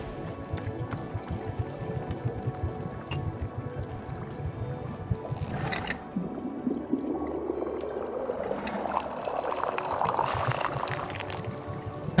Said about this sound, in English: that was like a perfect pour